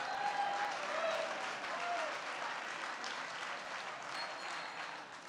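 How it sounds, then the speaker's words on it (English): Audience applause at a charity gala evening, a broad wash of many hands clapping steadily and evenly, moderately distant and fading slightly toward the end. "Give them a round of applause,"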